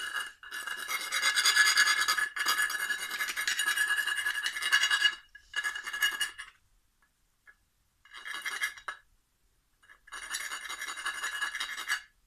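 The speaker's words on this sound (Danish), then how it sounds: "Det er vigtigt, at man filer hullerne." Steady rasping file strokes on the metal terminal box of a Sabroe HCA 33 refrigeration compressor, enlarging cable gland holes; close and loud, in several bursts separated by short pauses, with no talking.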